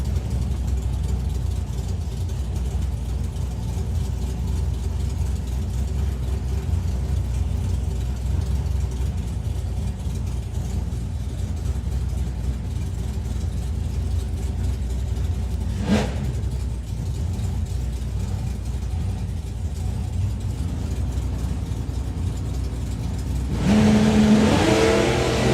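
A drag racing Charger engine rumbles steadily at idle for most of the stretch, with a brief sharp transient midway and a louder revving burst near the end, heard at a distance against ambient track noise at the FIA Euro Finals.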